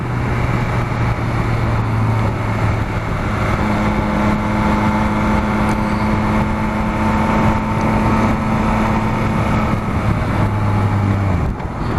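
A Ducati Multistrada 1260 S twin-cylinder motorcycle engine hums steadily at a low pitch for about eleven seconds, loud and close, with a slight rise in pitch midway before the tone drops away at the end.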